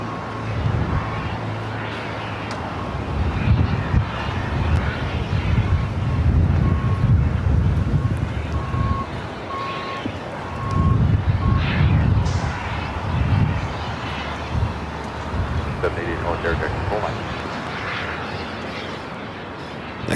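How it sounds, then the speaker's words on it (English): A Cathay Pacific airliner turns onto taxiway Lima at LAX, heading for runway 24 left: a low, steady engine drone at a distance, buffeted by gusts of wind across the microphone. "Cathay Pacific making their right-hand turn onto taxiway Lima will now head to 24 left."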